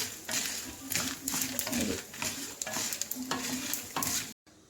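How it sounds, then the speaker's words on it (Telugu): Coriander seeds and urad dal fry in a pan, a close crackling sizzle broken by repeated stirring scrapes, ending abruptly in silence. "ధనియాలు అన్నీ వేసి వేయించుకుంటాం బాగా వేగేసాయి"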